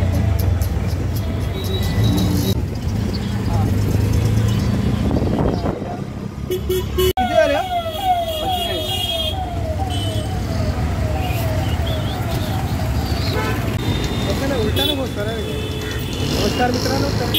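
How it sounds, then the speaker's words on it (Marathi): An auto rickshaw ride through Kalyan traffic, with a continuous engine and road rumble, several car horns tooting nearby, and a rising, warbling siren-like tone partway through, under ongoing talk. "रिक्षा भेटलेली आहे आता"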